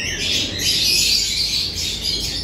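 Pigeons in a loft and aviary give a loud, close, continuous wash of calls and squawks with no pauses.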